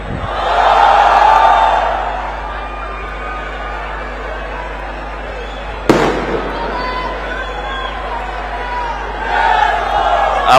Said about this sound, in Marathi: इथे बरीच गर्दी झालेली आहे.